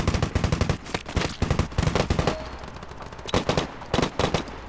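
Rapid automatic gunfire in the mobile shooter Standoff 2, close and loud, coming in several dense bursts with short gaps between them.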